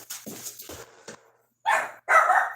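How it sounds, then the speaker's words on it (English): A dog barks in two loud, close bursts after a stretch of quieter talk, each bark strong and sharp with a short gap between them. "Oh, this fucking dog."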